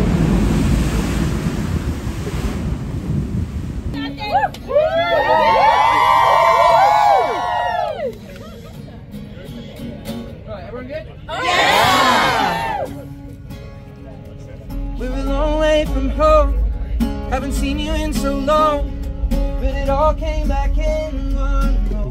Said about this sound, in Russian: Прикольно, вода шумит.